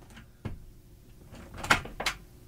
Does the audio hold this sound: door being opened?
yes